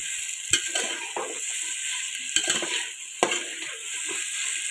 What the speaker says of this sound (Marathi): त्या फ्लावरला सुद्धा यामध्ये छान परतून घ्यायचं आहे।